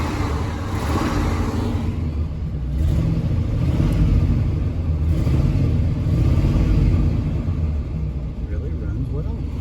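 A tired, worn-out motor in a 1966 Ford Country Squire idles smoothly, making a loud, steady low rumble that swells slightly a few times, with a voice talking over it.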